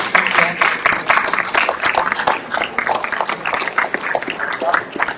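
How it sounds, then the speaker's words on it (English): An audience applauds at the close of a NAMM industry panel on promoting diversity, a dense, sustained patter of many hands clapping nearby at a steady, fairly loud level. "A round of applause for everybody that attended, please."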